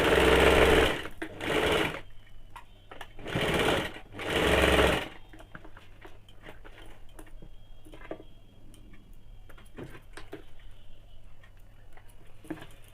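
A sewing machine stitches a kaftan nightie in three loud, close bursts, followed by quiet ticking and handling noises as the run stops.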